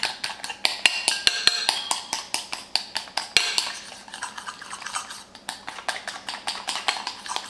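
A whisk beats a sweet manioc starch batter in a bowl to break up lumps, making a fast, steady run of light metallic clinks and taps against the bowl, close and continuous.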